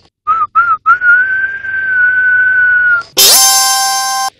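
A person whistles to imitate a milk pressure cooker's whistle: two short chirps, then a long steady tone, before a sudden, much louder, shrill whistle that holds to the end.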